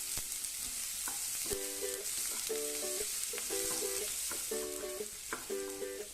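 Finely chopped large onion fries in hot oil, producing a steady close sizzle alongside a repeating tonal pattern in the background.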